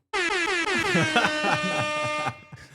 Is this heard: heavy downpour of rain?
no